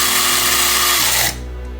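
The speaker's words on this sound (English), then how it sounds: "we close the lid and press the button to grind" Electric coffee grinder whirring loudly as it grinds coffee beans for a latte macchiato, a steady broadband buzz that cuts off sharply near the end, leaving a low motor hum.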